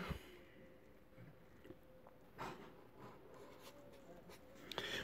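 Pen writing on a surface during a lesson, soft scratchy strokes in short intermittent bursts, faint and close in a quiet room.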